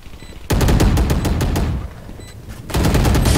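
Rapid bursts of automatic gunfire in the video game Valorant, loud and close, with a brief pause before another volley resumes.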